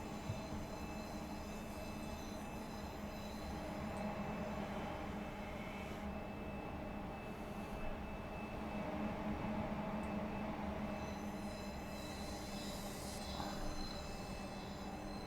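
Train running on the West Coast Main Line South in Train Sim World 5, approaching London Euston: a steady, continuous rumble of wheels on rail with faint squeals and a thin high tone, heard alone at moderate level throughout.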